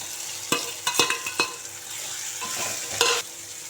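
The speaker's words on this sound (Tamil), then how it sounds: "இஞ்சி பூண்டு பேஸ்ட் வதங்கினோடனே குடமிளகாய் போட்டுக்கலாம்." Capsicum stirred into sizzling ginger garlic paste and softened tomato in a hot pan while pasta sauce is being made; steady frying hiss broken by several sharp spoon scrapes and clacks, close and clear, with no talking.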